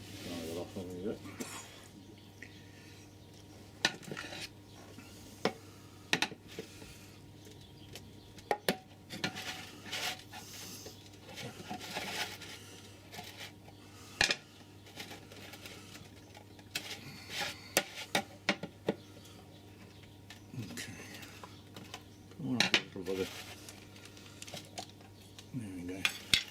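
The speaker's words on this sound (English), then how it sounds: "Give it a good stir with the screwdriver." A screwdriver stirs a tin of coach enamel paint, giving scattered metallic scrapes, taps and clinks against the can, close but fairly quiet, with someone talking throughout and a low steady hum underneath.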